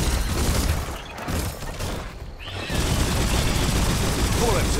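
Rapid gunfire in the video game Biomutant, dense bursts of shots crackling close and loud, easing briefly in the middle before the barrage resumes at full intensity, with speech also present.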